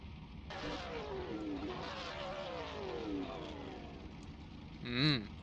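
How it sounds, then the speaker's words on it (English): A race car engine at a Kansas Motor Speedway event sweeps through several rising and falling revs at mid distance, then a brief loud whine swells near the end, with steady background noise throughout. "Thank you for the engine sounds, whoever that was."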